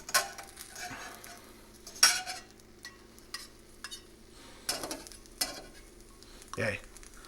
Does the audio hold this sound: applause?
no